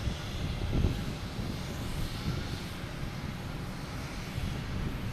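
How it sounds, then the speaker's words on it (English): A JetBlue Airbus A321 takes off from Boston Logan, its engines making a broad, steady roar from a distance that swells slightly early on and then holds, with no talking. "next taking off is JetBlue heading to San Francisco in A321"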